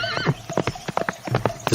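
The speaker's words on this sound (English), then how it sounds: "the farmer's son left the stable door open, and the horse ran away" A horse bolting from a farm stable, with quick irregular clip-clop hoofbeats and a high whinny at the start, loud and close.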